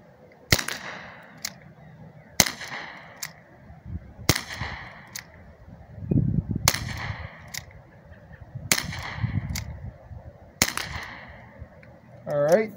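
An SNR .357 BB gun fires six sharp, loud cracks spaced roughly two seconds apart, each followed by a brief ringing tail, with quiet movement noises between shots.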